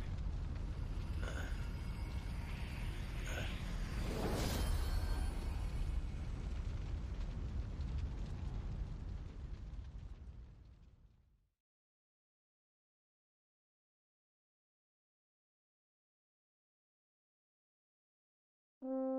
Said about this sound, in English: Nuclear explosions make everything better.